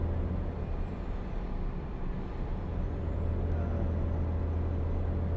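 A truck in a driving video game rolls along at night on a run from Houston to Texarkana, a steady loud low engine drone and road hum holding constant throughout, with faint high whine drifting above.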